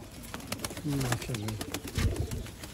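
Pigeons kept in pairs at a bird seller's loft, cooing in low repeated phrases close by, with people talking at moments over the calls.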